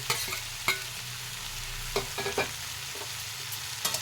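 A pan of fried native prawns, eggplant and potato being stirred, with steady frying sizzle underneath and several sharp scrapes and clinks of the spoon against the pan, close and moderately loud.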